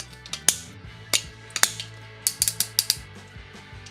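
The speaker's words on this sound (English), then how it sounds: "Nice clicky hinges." Hinges on a small Dofala Dino Powers transforming toy snap one after another during transformation, giving sharp plastic clicks and ratchets up close in an irregular quick series with soft creaks between.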